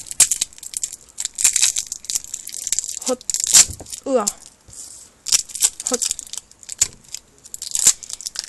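A masking tape package is cut and torn open with scissors, giving repeated close crinkling, crunching and tearing bursts, with a few short exclaimed voice sounds in between.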